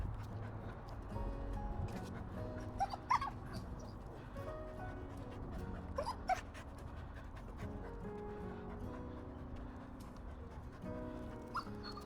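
A dog pants and whimpers through a low background hum, with several high yips and whines breaking out at intervals; sharp barks are faint or absent.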